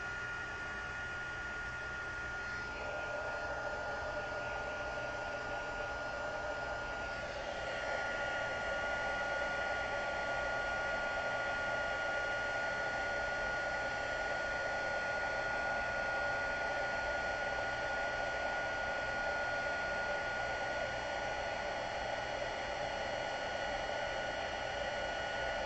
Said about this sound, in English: let me turn the heat tool on and get this embossed